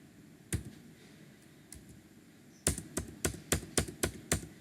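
Keys clacking on a computer keyboard while text is entered in LibreOffice Writer: a few isolated taps, then a steady run of crisp, close keystrokes in a quiet room.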